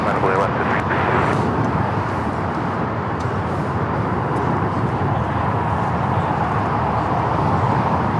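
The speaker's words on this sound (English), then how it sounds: "At the same time, Air Tahiti Nui, the Dreamliner, pushing it back." Air Tahiti Nui Boeing 787 Dreamliner being pushed back at Los Angeles International Airport, a steady loud broadband roar of engine and apron noise that holds evenly throughout, with voices talking over it.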